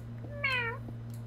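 A person imitates a cat's meow with a single clear, close, tonal cry lasting about a third of a second, with quiet around it.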